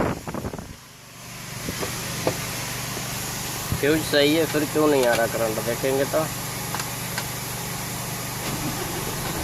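A Mercedes-Benz diesel engine idles steadily with a low, even hum, while someone talks over it close by throughout.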